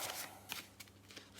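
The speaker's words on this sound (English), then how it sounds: "Now we shuffle the deck." A deck of cards is shuffled during a tabletop wargame, giving soft riffling bursts that come quietly and close.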